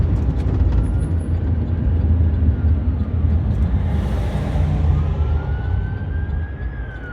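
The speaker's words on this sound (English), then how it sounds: "I hear those sirens behind me." An ambulance siren wails continuously behind a commercial truck on a Canadian road, loud and steady over the rumble of the cab's engine and road noise.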